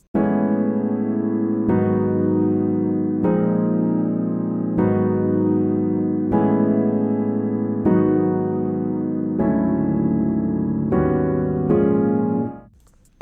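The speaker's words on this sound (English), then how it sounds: "I used the Rhodes preset and I used the felt preset. The Rhodes piano and the felt piano." Stacked Rhodes electric piano and soft felt piano chords ring out together, changing roughly every second and a half in a steady progression before fading out at the end, with no talking.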